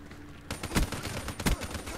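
Rapid Man-O-War rifle fire from Black Ops 3 multiplayer, a short run of close, punchy shots with two heavier blasts standing out, no talk over it.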